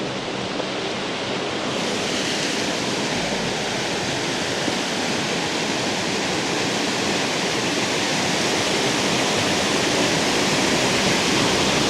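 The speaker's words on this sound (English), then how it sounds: "I have a huge water line going and covering the main road" Water rushes across a main road in the Andes, a loud, continuous roaring torrent with broad hiss that stays steady and close throughout, with no talk.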